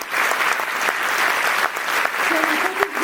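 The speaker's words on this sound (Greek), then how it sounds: "Και τώρα θα ζητήσω ένα πολύ μεγάλο χειροκρότημα για την υπέροχη ορχήστρα μας." Audience applauding the orchestra at a choir concert, steady dense clapping throughout with a faint voice or tone near the end.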